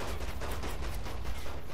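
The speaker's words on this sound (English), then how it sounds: "Too many explosions going on." Dense, rapid bursts of blasts and gunfire in Saints Row 3 crackle continuously, loud and chaotic, with no pause between the hits.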